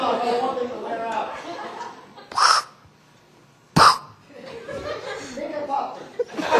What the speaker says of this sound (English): Dude, stop stepping on the crow.